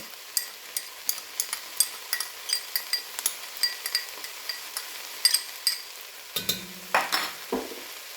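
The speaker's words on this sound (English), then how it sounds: "Let's stir that around. You're just going to cook this until your garlic becomes fragrant." Chopped garlic sizzles and fries in a pan while being stirred, with a steady run of scraping, clinking strokes of a utensil against the metal, then a few heavier knocks near the end.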